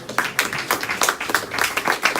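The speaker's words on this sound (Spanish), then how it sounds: "ese fuerte aplauso al Señor se lo merece" A church congregation claps together in a steady, rhythmic beat of many hands, with dense, lively claps continuing throughout and no talking over them.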